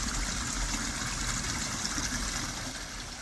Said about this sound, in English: The plants are in peak season, the waterfall is sounding amazing,